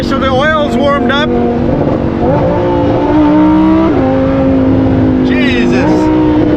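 A Lamborghini with an aftermarket exhaust revs loudly and continuously up close, its engine note climbing and stepping through rising pitches, with people talking over it.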